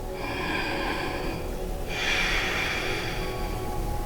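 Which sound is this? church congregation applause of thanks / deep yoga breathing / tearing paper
deep yoga breathing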